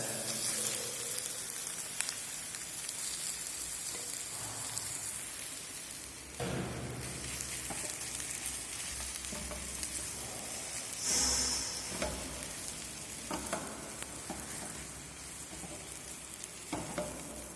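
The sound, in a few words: mashed potatoes frying in a pan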